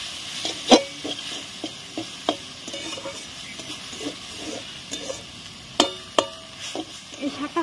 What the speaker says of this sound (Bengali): শুধু রসুন ছাতা করে দিয়েছি আর শুকনো লঙ্কা আর 2টে কাঁচা লঙ্কা নিয়েছি, এগুলো দিয়ে আমি রান্না করছি।